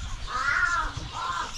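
A pet crow gives two harsh, throaty caws, the first longer and louder, the second shorter, close by against a faint background with no talking.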